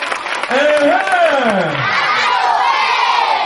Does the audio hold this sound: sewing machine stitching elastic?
no